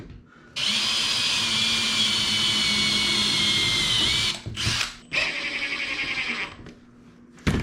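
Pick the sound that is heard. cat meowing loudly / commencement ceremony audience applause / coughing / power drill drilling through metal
power drill drilling through metal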